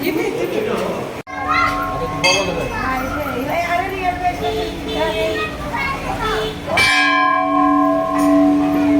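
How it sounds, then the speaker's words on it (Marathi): Temple bells ring repeatedly with bright, lingering metallic tones amid a busy crowd at a temple in Indore, with children's voices and chatter all around. "घंटा"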